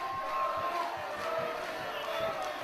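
Wrestling match crowd in an arena cheering and roaring as a continuous wash of voices with rhythmic stomping or chanting underneath, a commentator talking over it.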